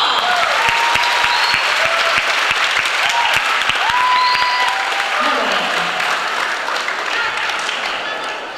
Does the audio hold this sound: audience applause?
yes